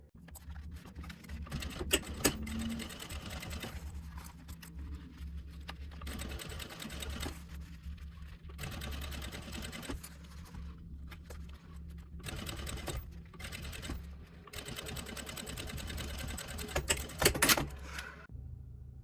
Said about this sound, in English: go back to the sewing machine. If you want, you can press it down a little bit so it's easier to sew, and then we will top stitch right here.